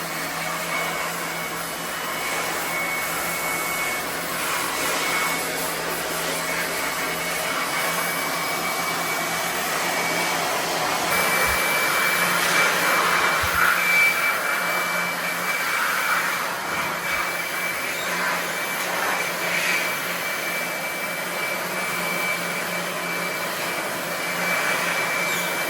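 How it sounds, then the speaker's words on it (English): A blower dries out a split-type air conditioner unit after it has been hosed down during aircon cleaning in the Philippines, giving a steady, loud, continuous airy roar with a faint high whine throughout. "So after they hose it out, then they're gonna blow it out."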